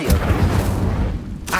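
Incendio fire spell cast in Hogwarts Legacy, a dense low rumbling whoosh of flame lasting throughout, with a brief burst near the start and another at the end.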